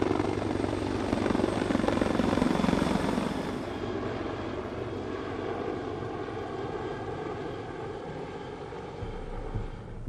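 A Sikorsky CH-53 heavy military helicopter flying, its loud steady rotor and turbine roar filling the scene, strongest in the first few seconds, then settling to a slightly lower sustained drone.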